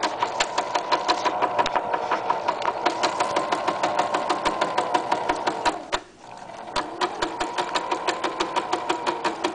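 A sewing machine runs a straight seam joining the two sides of an apron, a rapid even stitching rattle that pauses briefly near the end before resuming at the same steady pace.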